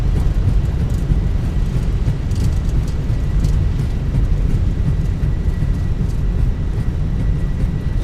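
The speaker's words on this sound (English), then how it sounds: "Nose down gently, reversers are out." An Airbus A320 (Fenix model in Microsoft Flight Simulator 2024) rolls out after landing with thrust reversers deployed, giving a loud, steady, broad roar with heavy low rumble and no break.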